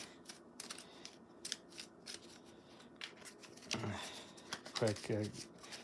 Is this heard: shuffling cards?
yes